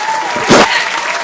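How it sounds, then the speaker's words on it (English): Audience applause at a talk-show conversation, a short loud burst of clapping rising and fading within about a second, up close. "See, if you should clap for this one."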